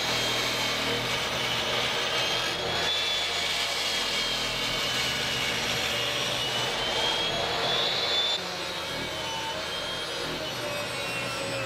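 A wooden block for a cigar box guitar neck is cut to width with a loud, steady power saw whose continuous whine holds for about eight seconds, then drops slightly in level and carries on to the end.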